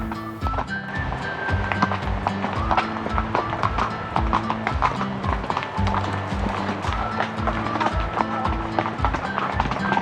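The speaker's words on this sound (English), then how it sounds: "we let the horses just take their time and pick their way through it" Horses walking a narrow, rocky back-country pack trail, hooves clip-clopping in a steady uneven rhythm close by, with gear and footsteps clattering alongside.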